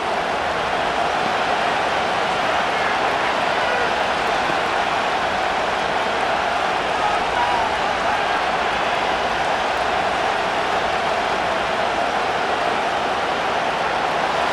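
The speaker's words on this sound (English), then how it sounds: "This crowd into it now as we get to third down." Stadium crowd roar from the Madden NFL 25 football video game, Dolphins versus Bills, as third down approaches: a steady, dense wash of cheering that holds at an even, loud level throughout with no distinct voices on top.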